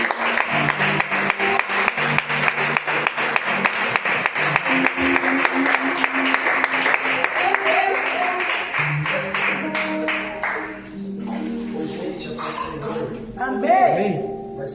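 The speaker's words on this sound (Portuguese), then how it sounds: "aquele que acredita, aplauda ao Senhor" A church congregation claps in steady rhythmic unison for several seconds before the claps thin out and fade, giving way to voices speaking and singing.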